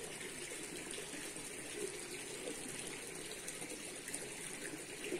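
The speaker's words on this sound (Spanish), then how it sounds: "Mira, otra fuente." Water running steadily from a village fountain in a small Spanish town, a faint, continuous splashing trickle with no voices.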